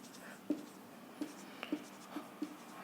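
Chalk or marker taps and scratches on a board during a C programming lecture, about six short quiet strokes spaced irregularly, close by in a quiet room.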